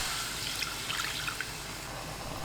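Water being poured into a pan where dried soup anchovies were just stir-fried, a steady wet splashing rush with small drips, close and fairly quiet, no talking.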